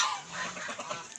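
Pet chickens on a rural farm make a short burst of soft fowl calls and clucks, close by and moderately loud, lasting about a second with no voices.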